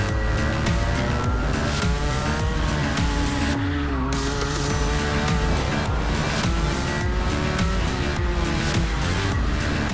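A racing go-kart driven fast on a track, with a loud, continuous engine whine that rises and falls in pitch through corners and straights, plus a brief tire-skid moment, steady throughout with no talking.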